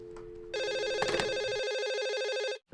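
Telephone ringing in a film scene, a loud electronic trill with rapid warbling pulses that starts abruptly after a quiet moment, runs about two seconds and cuts off.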